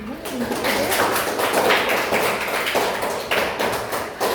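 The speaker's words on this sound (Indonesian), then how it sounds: "Tepuk tangan" In a classroom, pupils clap their hands after two classmates answer, a continuous patter of many small claps that is fairly close and steady, with a few sharper taps near the end.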